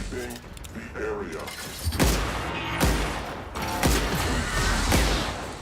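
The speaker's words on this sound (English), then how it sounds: "I do have a plasma rifle." Plasma rifle fire in The Outer Worlds lands as a series of about five heavy, evenly spaced blasts with booming low ends and hissing tails, close and loud, with speech underneath.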